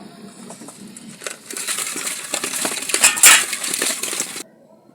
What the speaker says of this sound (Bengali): এই তেলের মধ্যেই ভেজে নিচ্ছি